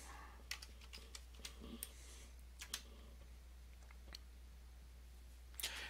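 Quiet computer keyboard typing a password: a sparse run of light key clicks, irregular and close, with a short burst of several keys near the end over a low steady hum.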